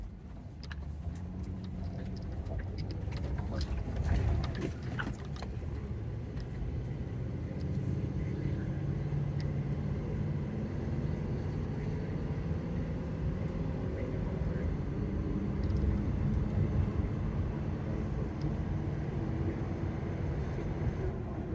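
A van cruises along Highway 259 through the mountains of eastern Oklahoma, giving a steady broadband road and engine rumble throughout with faint scattered knocks.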